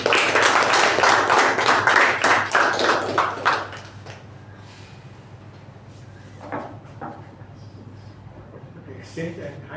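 Applause and clapping from the audience at a Toastmasters meeting, a loud dense burst of many hands for about four seconds that fades to scattered claps and room noise.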